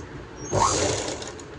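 Brief whirring burst from a sewing machine stitching a straight seam along a blouse neckline, rising suddenly and running steadily for about a second before easing off, close by and without talk.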